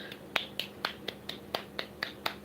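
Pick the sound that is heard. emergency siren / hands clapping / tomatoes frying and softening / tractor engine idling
hands clapping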